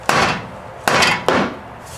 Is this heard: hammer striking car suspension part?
yes